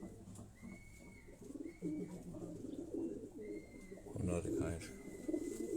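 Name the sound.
high-flying pigeons cooing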